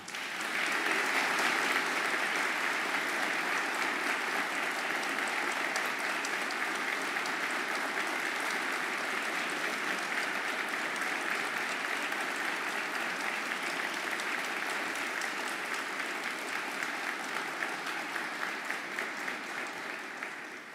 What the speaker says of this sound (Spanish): para quien pido por favor un fuerte aplauso